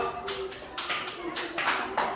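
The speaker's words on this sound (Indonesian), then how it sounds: "Iya, tepuk tangan untuk kelompok" Children in an Indonesian classroom clap in short bursts for a student group after its presentation, several brief rounds of hand claps over a constant murmur of voices and room noise.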